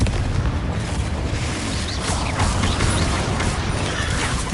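Confringo blasting-spell explosions in Hogwarts Legacy, a dense rumbling boom that rolls on without a break, loud and close, with no talking over it.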